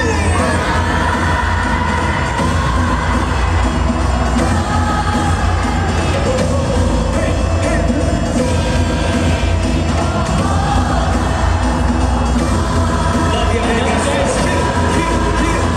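A huge stadium crowd roars continuously at a concert in Las Vegas, a dense, loud wall of cheering and screaming sustained without a break, with music faintly mixed beneath.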